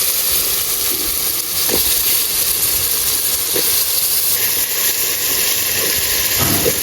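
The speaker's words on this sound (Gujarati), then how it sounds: "તેલ મરશું ગરમ થઈ ગયું છે હવે અને આમાં આપણે નાખી દઈશું લેપટા જે આપણે સુધારેલા હતા" Cut lepta fish sizzle fiercely in hot oil, a loud continuous hiss and crackle close by that holds without letting up.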